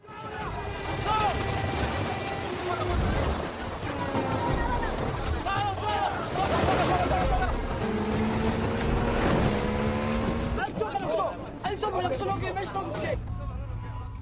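A small boat heads out to sea, its motor droning steadily under a prominent narrating voice and background music, with the engine roar swelling and fading across the clip.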